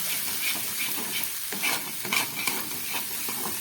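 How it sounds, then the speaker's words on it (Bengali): Spice masala with Kashmiri chili powder fries in a pan, a soft steady sizzle broken by scraping stir strokes, fairly faint and close, with no talk. "মশলাটা আমার খুব ভালো করে ভাজা হয়ে গেছে"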